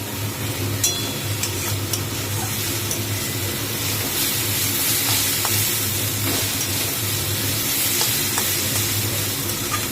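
Egg chow mein stir-frying in a hot pan gives a steady, close, loud sizzle with a continuous hiss and occasional scraping stirs throughout, no voices.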